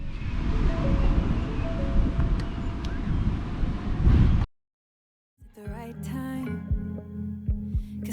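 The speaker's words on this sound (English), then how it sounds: "It's 88 degrees, sunny, kind of windy. There's a red flag, so that means lots of high waves." Wind buffets the microphone on a sunny, windy beach under a red flag for high waves, a loud roaring rush of surf and gusts for several seconds, then a brief drop to near silence before softer, scattered sounds resume.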